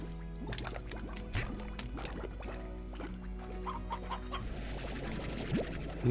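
Chickens clucking in the video game Slime Rancher, a busy run of short cheerful clucks and chirps over a steady low background hum, with a few splashy liquid sounds near the end.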